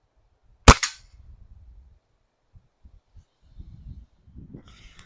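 Single sharp report of a modified Crosman 2240 air pistol firing at a paper target, a loud crack near the start followed by low rumble, faint handling sounds and soft talk toward the end.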